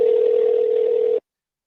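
A steady telephone tone on a line calling into a radio hotline, a single loud continuous hum lasting just over a second before cutting off abruptly into silence.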